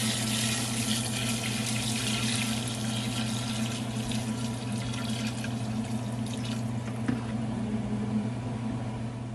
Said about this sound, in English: Here goes the water.